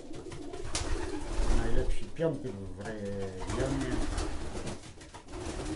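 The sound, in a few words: racing pigeon cooing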